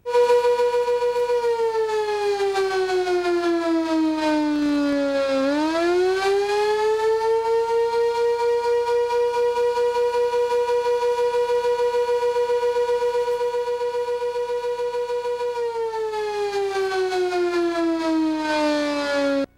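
A county outdoor civil defense warning siren wails loudly and steadily for about twenty seconds, its tone dipping and then rising again as it rotates, with no other sounds.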